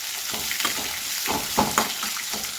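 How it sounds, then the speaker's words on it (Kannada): Curry leaves, onion and green chilli frying in a pan, a steady close hiss of sizzling oil with bursts of stirring and scraping through it. "ಇದನ್ನು ಸ್ವಲ್ಪ ಚೆನ್ನಾಗಿ ಹಿಂಗೆ ಫ್ರೈ ಮಾಡ್ಕೊಳ್ಳಿ."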